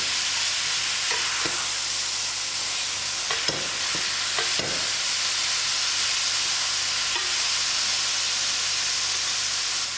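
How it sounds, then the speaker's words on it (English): Mince with peas and methi frying in its own fat in a pot gives off a loud, continuous sizzle, broken by several scraping stirs in the first half, with no voices. "As the mince cooks, it will start to fry on with its own fats."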